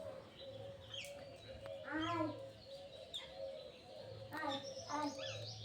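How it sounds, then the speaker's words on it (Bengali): Several birds chirp and coo outdoors in a courtyard in the morning, short calls rising over a steady low hum, with brief bursts of song spread across the stretch. "পাখিগুলো ডাকছে, নিশ্চয়ই পাখিদের কলকাকলি শুনতেই পাচ্ছ।"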